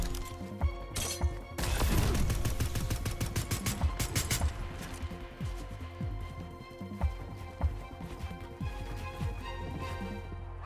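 Fortnite gunfire: a rapid burst of loud sharp shots early on, then scattered single cracks and impacts over a steady background hum.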